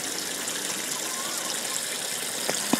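Water runs steadily into a livestock trough on a farm, a continuous broadband gush with a faint trickle beneath it, fairly quiet and unbroken, with a small knock near the end.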